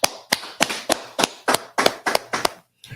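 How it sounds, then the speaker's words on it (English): Group of people clapping hands in unison, nine or ten sharp, evenly spaced claps at a steady rhythm, then the clapping stops abruptly. "Let's clap it up."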